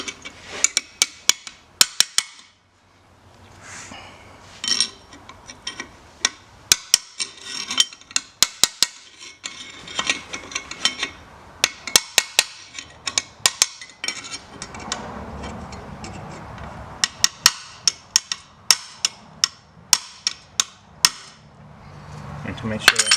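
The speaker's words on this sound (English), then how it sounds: "If a hammer and a drift, you're going to seat the snap ring." Hammer striking a drift to seat the snap ring holding a turbocharger compressor cover, sharp metallic blows landing close and loud in irregular bursts, with brief pauses between groups of taps.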